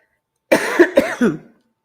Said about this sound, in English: I hate it when I start coughing.